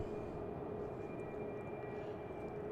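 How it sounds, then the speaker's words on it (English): A new JetBlue airliner approaching to land at Boston Logan airport at dusk gives a steady, distant, low engine roar throughout. "We got a JetBlue coming in."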